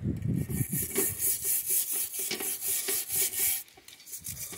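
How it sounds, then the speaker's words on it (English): A soft wire brush scrubs rust off metal traps soaked in vinegar, giving close, rhythmic rasping strokes in repeated bursts that stop near the end, with no talking. "take you a little soft wire brush like this, once they've been sitting in here, you just scrub them a little bit"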